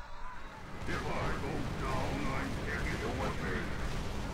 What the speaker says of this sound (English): Oh, it's just a long, drawn-out explosion.